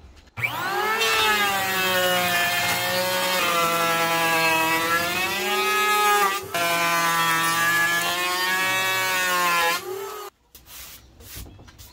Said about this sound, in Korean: 뒷면도 이렇게 거친 면을 깨끗하게 한번 갈아보겠습니다